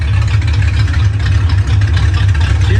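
A 1968 Ford Mustang engine idles steadily and smoothly with a deep, even rumble, close and continuous throughout, no talk over it.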